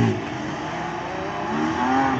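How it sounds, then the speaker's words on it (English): A Porsche GT4 sports car engine revs and climbs in pitch, a smooth mechanical roar that swells louder toward the end, with no voices, at a supercar meet in Retford. "and next up a Porsche GT4."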